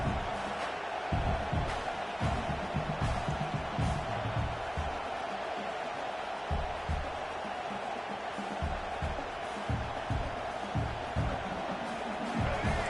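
A football stadium crowd at a Penn State versus Clemson game roars in a constant, distant wash of noise, swelling at moments, with a commentator's voice running over it.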